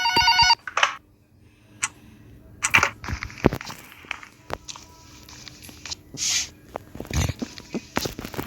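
Telephone in a nurse horror video game gives a short ring at the start, then footsteps, knocks and clattering thuds follow at moderate loudness against a quiet, hissy background.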